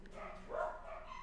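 A dog barks once, faint and distant, in the background of a quiet room.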